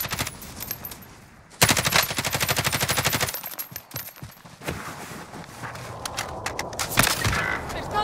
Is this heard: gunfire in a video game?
yes